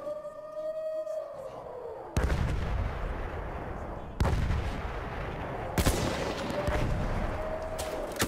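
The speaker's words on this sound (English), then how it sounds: "Machine gun." Bursts of gunfire from a Battlefield 1 World War I battle, with three loud broadband blasts at roughly two-second intervals and a sustained crackling rumble between them, over a faint droning siren-like tone.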